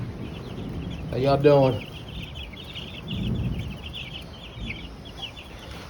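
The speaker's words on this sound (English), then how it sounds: "because I got these baby chicks in here." Baby chicks under heat lamps in a brooder, with faint steady cheeping running throughout at moderate distance, and a voice speaking briefly over it.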